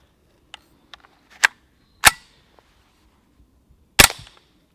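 A suppressed semi-automatic gun firing subsonic rounds, producing a few sharp, fairly quiet cracks spaced a second or two apart with faint mechanical clicks between them, close by.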